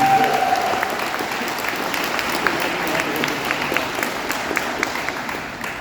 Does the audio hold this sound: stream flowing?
no